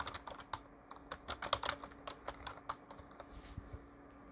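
A title is typed on a computer keyboard in a steady run of quick, close key clicks lasting several seconds, alone without voices.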